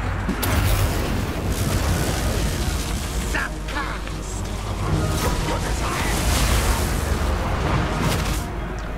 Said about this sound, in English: I love explosions, you can tell.